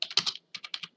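Fast typing on a computer keyboard during Windows 10 PC setup: two close bursts of crisp, clicky keystrokes split by a short pause, loud and near with no talk.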